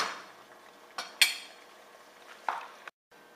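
Meat is shelled from a lobster tail with a spoon, fork or knife. Sparse metallic clinks and scrapes of utensil on shell sound close and fairly quiet, with a few sharper taps over a faint sizzling background.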